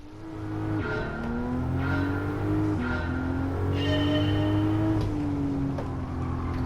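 A car on sports-compound tires in Gran Turismo 7 runs steadily with a loud engine drone rising through gear changes, brief shifts punctuating the pitch climbs, with no talk.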